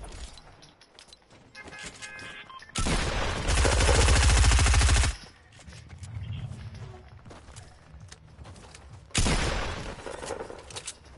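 Gunfire in a shooter video game comes in two rapid, loud bursts of automatic shots a few seconds apart, with quieter game sounds and muffled talk between them.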